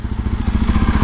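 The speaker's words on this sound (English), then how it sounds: "So that's the exhaust note of the Yezdi Adventure" Idling exhaust note of a Yezdi Adventure motorcycle, a steady, close, loud single-cylinder thump with an even pulsing rhythm and no voices.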